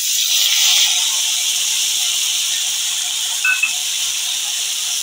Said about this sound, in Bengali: আদা জিরে বাটা দেব